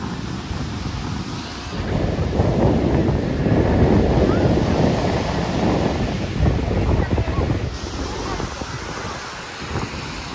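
Surf and wind at Juhu beach give a loud, continuous rush of breaking waves, swelling in the middle, with gusty wind buffeting the microphone and faint crowd noise in the background.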